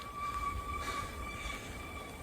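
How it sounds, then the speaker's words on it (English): Passenger train passing on a line beside the River Great Ouse, heard from a distance as a faint steady rumble with a rising rush in the middle and a thin high rail whine. "I think I just got the train. It just whizzed past."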